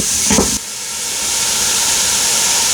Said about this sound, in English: I'm just going to go on and get the whole onion coated in that grease real good.